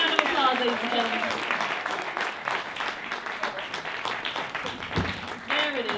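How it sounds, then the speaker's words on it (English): An audience gives a round of applause, dense continuous clapping with some cheering, while a voice talks and calls out over it. "Give her a round of applause, ladies and gentlemen."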